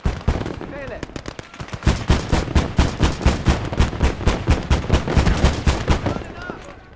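Machine gun fire in a WWII Eastern Front video game, loud rapid bursts of evenly spaced shots repeating close by, with a voice talking under the firing.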